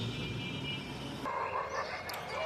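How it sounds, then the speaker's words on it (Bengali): Dogs barking on a village morning, fairly distant, yappy barks and whimpers over a low, constant background hum. "কুকুরগুলো খুব ডাক দিতেছে"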